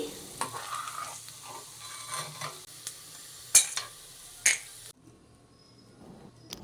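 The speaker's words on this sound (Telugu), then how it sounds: "ఇప్పుడు వీటిని లైట్ గోల్డెన్ కలర్ వచ్చేదాకా వేయించి పక్కకు తీసుకోవాలండి." Peanuts and chana dal frying in oil give a continuous crackling sizzle, with repeated sharp scrapes and taps of a spoon stirring in the pan, ending quietly.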